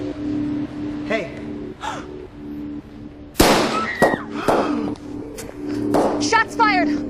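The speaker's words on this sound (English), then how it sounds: "Shots fired." A sudden gunshot-like bang cracks out mid-scene, followed by a few sharper pops, with people talking and gasping around it over a low background hum.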